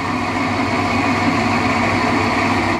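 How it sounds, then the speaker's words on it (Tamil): Wet grinder churning soaked rice into a smooth batter, a steady, loud mechanical hum and rumble running unbroken from start to finish with no voices. "இப்போ நம்ம ஊற வச்ச அரிசி கிரைண்டரில் போட்டுட்டோம்."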